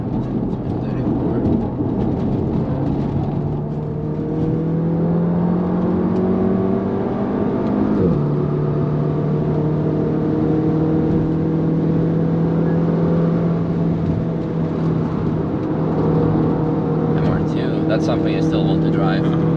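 Cupra Ateca SUV engine on the Nürburgring, a steady loud drone with a rising pitch that dips briefly mid-run and then climbs again, heard from inside the car with voices talking over it.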